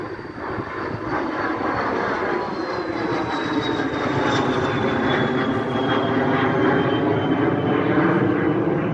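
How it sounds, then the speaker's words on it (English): A private jet takes off from Biggin Hill Airport with a loud, sustained engine roar and a high turbine whine that slowly falls in pitch. The roar stays steady and close throughout, with no talking. "Look, we have a plane taking off."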